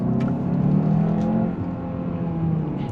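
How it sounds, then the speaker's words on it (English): A turbocharged 2024 Hyundai Santa Fe engine pulls away in a smooth, steady rising hum, heard from inside the car, with a brief dip midway before the drone continues, with no one speaking. "because of the turbos attached to the engine, when it takes off, it's not aggressive, but you can tell that it has a lot of pep to it"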